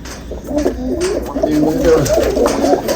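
A flock of pigeons coos nearby in overlapping, throaty, rolling calls that continue without a break. The cooing stays loud and close the whole time.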